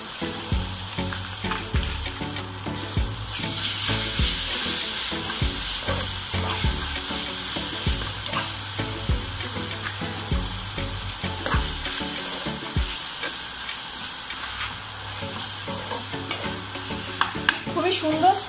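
Ginger garlic paste hits browned onions frying in a pan, giving a constant sizzle with a brief louder hiss, alongside repeated scraping and clinking of a spoon as the mixture is stirred.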